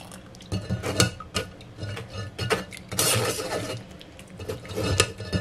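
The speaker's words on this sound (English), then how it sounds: "Now I just stir the solids, and the syrup will flow through the sieve." A spoon stirring rhubarb solids in a metal sieve to strain out syrup, giving irregular clinks and scrapes against the mesh and bowl, close and clear, with soft wet shuffling between strikes and no talking.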